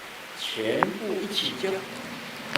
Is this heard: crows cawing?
yes